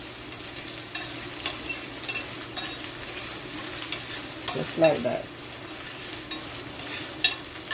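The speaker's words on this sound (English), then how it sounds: "we're just gonna fry this up" Steady sizzling of onions and seasonings frying in oil for corned beef, with occasional stirring scrapes and a brief louder clatter midway.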